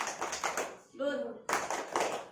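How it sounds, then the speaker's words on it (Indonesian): A group of people giving a rhythmic salute clap during a family development session in Bojonegoro, bursts of sharp claps in two runs separated by a brief chanted call, with voices speaking alongside. "Ayo kita kasih semua tepuk salut."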